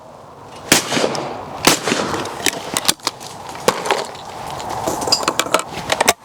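An old break-action shotgun fires at clay targets, sending sharp blasts with irregular spacing over several seconds. Lighter clicks and knocks come between the shots, outdoors at close range with no speech.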